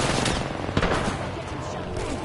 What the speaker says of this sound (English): She had the pump gun.